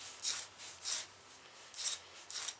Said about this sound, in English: I want to hit that with a file.